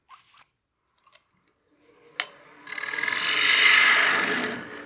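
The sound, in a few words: wood turning tool cutting a wooden coin box on lathe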